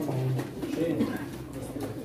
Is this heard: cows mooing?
no